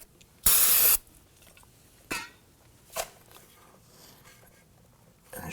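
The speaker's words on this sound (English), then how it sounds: "A little trick on this here is to spray it with some solvent" A short loud hissing burst from a can of spray solvent, followed by a few quieter scattered spritzes and a final hiss starting at the end, during strut and spring replacement on a Volvo XC90.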